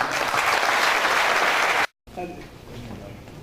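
Brief burst of clapping from a gathered group, dense and even for under two seconds, then cutting out abruptly to a quieter room with faint talk.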